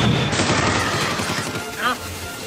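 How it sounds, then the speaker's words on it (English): A cartoon rocket-carrot launches with a loud, noisy burst that whooshes for a couple of seconds and fades out, with a short rising tonal squeal near the end. "Fire, rocket carrot!"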